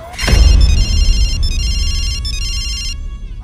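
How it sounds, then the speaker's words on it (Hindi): A telephone rings with a bright electronic warble in three steady bursts after a sharp knock, loud and close, with a low rumble underneath. "फोन उठाओ"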